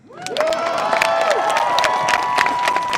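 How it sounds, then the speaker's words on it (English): A street crowd at a drag march cheers and applauds for a drag performer, a dense wash of clapping, whoops and shrill shouts swelling quickly and staying loud throughout. "Clap for the Vixen again."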